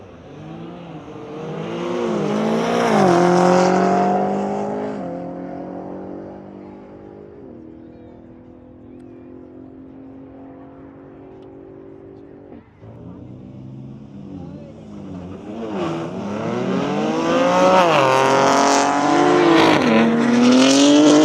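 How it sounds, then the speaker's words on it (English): BMW G80 M3 and F90 M5 at a private track day drag race: two loud engines rev hard with rising, sweeping exhaust notes, first fading into a steadier drone, then roaring up close again toward the end. "Let's listen to the exhaust notes of these cars."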